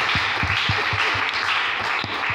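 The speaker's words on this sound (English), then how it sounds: "Let's clap for the Holy Spirit" A church congregation claps in a steady rhythm, about ten distinct claps at an even pace over a continuous murmur of voices and room noise, fairly close and moderately loud.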